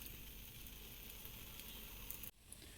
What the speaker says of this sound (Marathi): तेल टाकून हा डोसा छान असा शिजवून घेणार आहोत